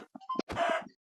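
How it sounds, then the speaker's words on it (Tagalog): A chicken in a video game lets out a short burst of clucks, a few quick close notes followed by a longer squawk. "Hala ka, merong manok. I like chicken."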